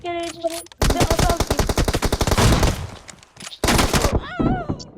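Rapid automatic gunfire in an online shooter video game, loud sustained bursts with a brief pause before another burst, close and dominant with no talk over it.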